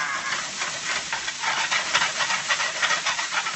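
Onions and peppers sizzle in a hot pan for a pork stir fry with baby bok choy, a steady, fairly loud hiss with gentle rhythmic pulses, no voices.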